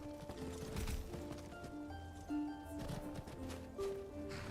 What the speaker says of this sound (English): Yeah, wild horse.